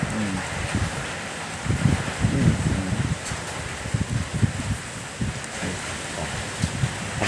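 Strong wind blows outdoors in gusts at a crab-racing game, a steady broadband rush with louder buffeting surges and rumble against the microphone, no one speaking.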